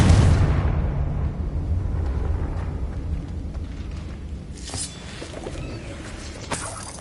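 A deep, rumbling explosive blast from the Confringo spell in Hogwarts Legacy opens loud and heavy, then fades into a long low rumble with a few faint crackles later on.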